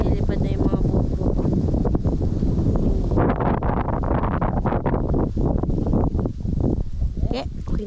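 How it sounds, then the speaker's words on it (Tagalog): Strong wind roars and buffets against the microphone in a loud, continuous rush, with gusts shifting in intensity and faint voices beneath. "Lumalakas na yung hangin mga kamising."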